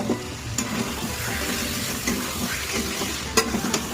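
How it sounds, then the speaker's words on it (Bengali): Chicken kosha stir-fries in a pan with a steady, close sizzle and the scrape of stirring, broken by a few sharp clinks of a utensil on the pan. "এখন আমাদের চিকেন কষা চিকেন রেডি হচ্ছে"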